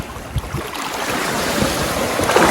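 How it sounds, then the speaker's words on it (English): Waves rolling in and breaking on a Curaçao beach, a loud, broad rushing wash that swells toward the end, close by with no voices. "Just wait for a wave to go by"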